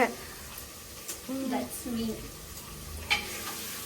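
Onions frying in a pan for chicken biryani, a steady broadband sizzle with stirring scrapes running throughout, while a voice is heard briefly over the cooking.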